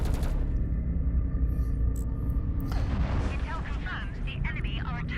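Spaceship weapons in the game Fractured Space fire as a heavy, continuous booming rumble. The barrage gives way to a commentator's voice talking over softer background rumble.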